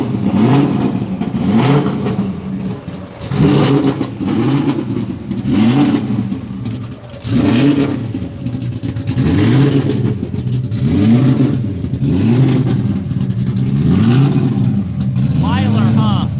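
Shelby GT500 Mustang with aggressive cams revving hard at a Texas Mile race event, repeated rising and falling engine sweeps with a loping idle between bursts, loud and close, with voices talking over it.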